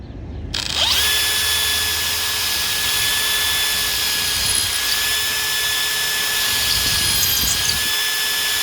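A power drill bores through a Roman-style roof tile into the wood beneath, running at a steady high whine for several seconds after a quick start, loud and close.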